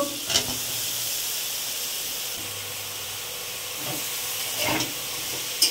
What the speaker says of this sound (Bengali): সামান্য নেড়ে ভেজে নিয়ে ওল শাকগুলো দিয়ে দেব।